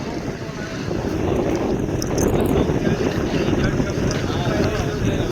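Strong winter wind under cloudy skies buffets the microphone in a constant roaring rush, loud and close, with faint voices underneath.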